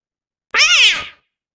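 A single cat's meow, loud and close, a clear rising then falling wail lasting about half a second in silence.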